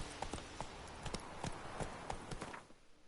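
Roach the horse trots in The Witcher video game, hooves clip-clopping in a steady, close, even rhythm over about three seconds, with no voices.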